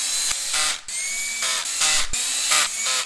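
Short bursts of a buzzing power driver run bolts in on a 2006 Suzuki GSX-R 1000 K6 motorcycle, about five close, loud pulses separated by short pauses.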